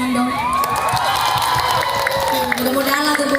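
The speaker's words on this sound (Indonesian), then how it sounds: "Tepuk tangan dong" An audience at a lively welcome performance for a singer in Barru, Indonesia, cheers and shouts loudly, with some clapping mixed into a dense, continuous crowd roar.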